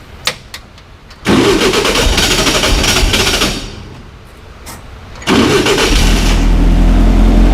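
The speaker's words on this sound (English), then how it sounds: "We're going to start it up one more time" 1969 Volkswagen Formula Vee race car's engine starts with a few clicks and a loud cranking catch, revs, and falls to a rough idle, then blips loudly back up to a close, raspy roar.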